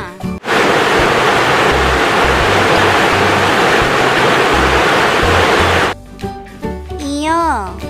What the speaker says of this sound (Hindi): झ से झरना।